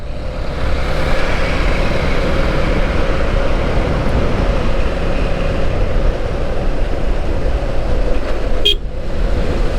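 A train runs through Dhaka on a rainy day, heard from on board as a loud, steady, unbroken roar of wheels and rain. A brief high sharp sound cuts through near the end.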